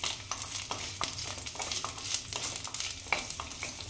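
Garlic, chili and ginger sauté in oil for a broccoli almond soup, a moderate sizzle punctuated by regular scraping strokes of a spoon stirring through the pan.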